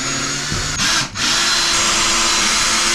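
Power drill driving small screws through the metal panels of a Keter Darwin 6x8 shed, a loud steady whine for nearly three seconds with one brief dip near the start.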